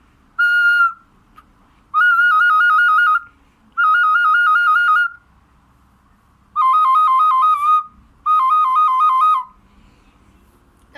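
A small folk pipe (dudochka) plays a whistling tune in five loud, bright bursts of warbling, trilled tones separated by short pauses, alone and close.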